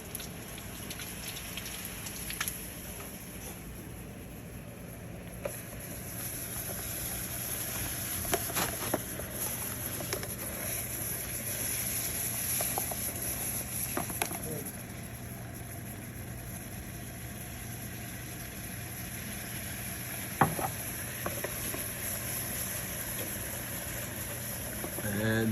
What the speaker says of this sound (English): The liquid nitrogen is boiling away, bubbling away.